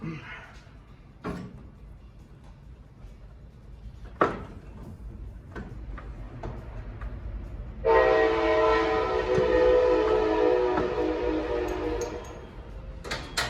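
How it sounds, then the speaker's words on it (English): A train passes nearby, its rumble swelling into a loud sustained horn blast for several seconds, with scattered clanks and taps before it. "Oh, that damn train."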